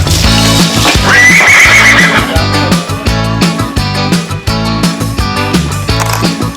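A riding horse lets out a loud whinny while hooves clip-clop in a steady rhythm close by, with music-like beats running alongside.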